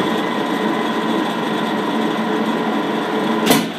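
A Chambon combination woodworking machine spins its boring head at low speed, a steady mid-pitched whir with even tone throughout, close by, plus a brief sharp knock near the end.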